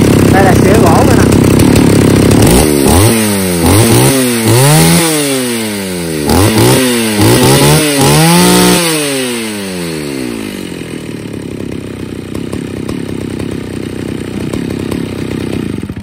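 A 61cc chainsaw, pulled into life with one hand, roars near the mic and is revved repeatedly in rising and falling sweeps before it settles to a steadier idle, while someone talks over it.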